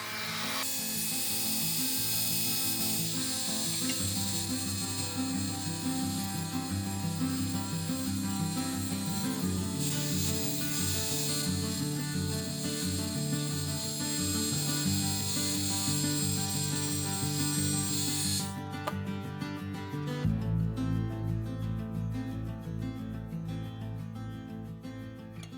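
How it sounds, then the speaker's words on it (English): Steady scraping and rasping of tools cutting, filing and sanding a small model car, continuous and close, with a rougher grinding tone toward the end and no talking. "now I'm just gonna cut all the ends off and do a bit of filing and sanding"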